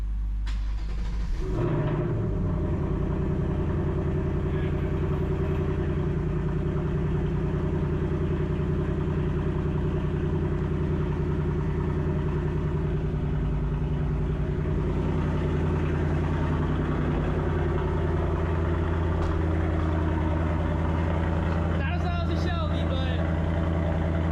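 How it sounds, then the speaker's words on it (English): A Corvette sports car engine cold-starts in sport mode, cranking and catching with a deep roar, then settles into a steady, loud rumbling idle that continues at length. "We might as well get a loud cold start today."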